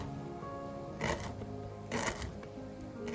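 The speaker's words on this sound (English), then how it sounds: "And then you just cut this into very small pieces" A knife chops fennel into small pieces, giving a few short, crisp cutting bursts spaced about a second apart over quiet kitchen background, with no talking.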